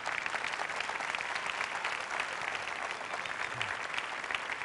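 At an outdoor gamelan concert, an audience applauds a composer: a sustained wash of many hands clapping, heard from some distance and holding steady for several seconds.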